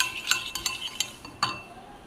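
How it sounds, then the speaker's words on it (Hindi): A spoon clinks and scrapes against a bowl as spices are stirred into yogurt for a chicken marinade, several sharp taps spread across a couple of seconds, close and moderately loud with no speech. "और ये सारे मसाले चले जाएंगे इसमें। अच्छे से मिक्स कर देंगे।"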